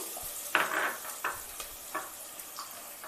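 Onions go into a pan with turmeric for mutton keema, giving a soft, quiet sizzle with a few scrapes and stirring clinks spread across the stretch, with no talk.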